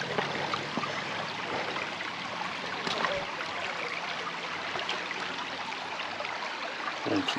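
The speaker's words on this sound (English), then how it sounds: "Here's the waterfall up there." Falling water rushes in a steady, soft hiss at a distance, with no voices and only faint scattered knocks.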